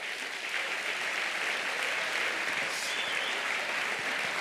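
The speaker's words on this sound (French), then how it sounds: "bravo à eux, eux aussi on peut les applaudir" A large audience at the Nuit du Sport Genevois 2025 awards in Geneva applauds the winners and their families, a dense, continuous clapping heard from some distance, even and unbroken, with no speech over it.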